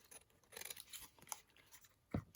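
Scissors trimming paper for a collage, a few soft irregular snips and rustles close by, very quiet, ending with a thicker crunchy cut.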